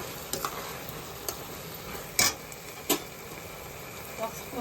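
Semiya kesari being stirred in a pan with ghee-fried dry fruits mixed in, giving a soft continuous sizzle with a few sharper scraping knocks of the spoon against the pan, close up.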